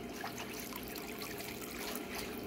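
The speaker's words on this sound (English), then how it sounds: "this is the hot water that's coming out" Continuous splashing trickle of warm water pouring from the outlet hose of a DIY solar pool heater driven by a 12-24 volt DC pump, steady and close with no talk.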